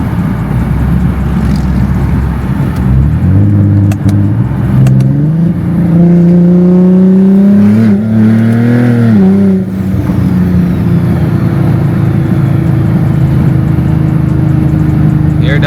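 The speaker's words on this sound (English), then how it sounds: "Hear that turbo, boy?" BMW M340i engine revving hard with turbo noise, a loud droning engine note that climbs and falls through several pulls, with someone talking excitedly over it.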